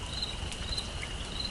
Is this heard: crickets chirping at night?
yes